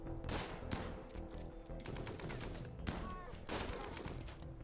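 Light machine guns firing in the colony strategy game RimWorld, rapid overlapping bursts of gunfire forming a steady, faint fusillade.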